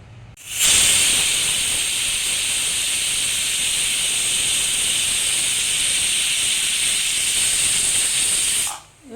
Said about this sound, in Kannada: ಇವಾಗ 2 ವಿಸಿಲ್ ಬಂದಿದೆ